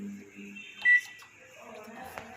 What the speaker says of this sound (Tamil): 2 நிமிஷத்துக்கு அப்புறமா பீப்னு சவுண்டு கேட்கும்